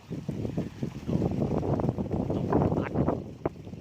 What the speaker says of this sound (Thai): ลมก็มาเลยนะครับ ลมแรงมาก